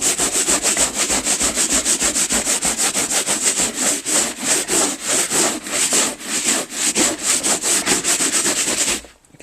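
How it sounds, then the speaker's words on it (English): A rock scrapes back and forth hard across Hawaiian kapa cloth in a fast, steady rhythm of rough rasping strokes, loud and close, stopping abruptly at the end. "If you can rub a rock, and I'm not doing this gently for your benefit."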